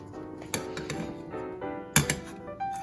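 Metal spatula or knife clacking and scraping against a pan while chopping eggs, a few sharp irregular knocks close by with a louder cluster near the end.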